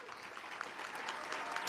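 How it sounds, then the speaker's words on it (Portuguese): Audience applause at a breakfast prayer event, a short steady burst of many hands clapping at moderate distance. "Ela é aplaudida então ao dizer isso."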